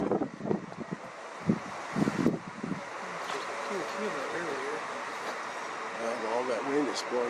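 Wind blows steadily outdoors on a humid night during a lunar eclipse, a constant broadband rush under a voice, with a few louder gusts early on.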